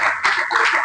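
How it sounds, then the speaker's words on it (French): A university audience bursts into brief, close applause, with dense clapping for under a second. "vos applaudissements."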